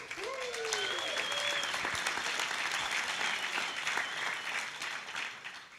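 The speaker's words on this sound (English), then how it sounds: "so give yourself a round of applause" Sustained applause from a large conference audience of several hundred people fills the hall, a loud continuous roar of clapping with faint crowd noise and no clear talk.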